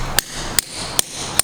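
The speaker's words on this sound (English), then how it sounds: "we use this crimping tool and a hammer" A hammer strikes a crimping tool to press a cable lug during an RV electrical and solar upgrade, four sharp metallic blows evenly spaced about every 0.4 seconds, close and clear with no talk.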